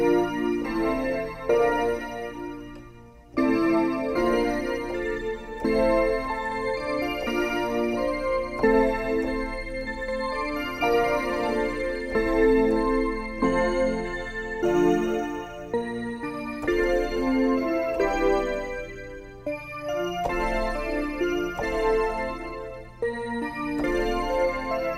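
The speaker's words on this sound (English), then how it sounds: "It's kind of an icy, airy bell sound." An icy, airy bell patch from the Razor synthesizer plays a shimmering, chiming melodic line with sustained tones and soft attacks, continuous and clear with no voices.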